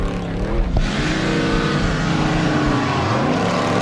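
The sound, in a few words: off-road race truck engine revving, Cameron Steele's Triton Engineering IRS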